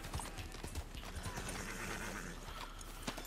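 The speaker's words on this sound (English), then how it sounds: "Oh, there's a horse up there." A horse in Red Dead Redemption 2 clip-clops close by with a whinny, its hooves tapping in uneven rhythm over a steady ambient bed.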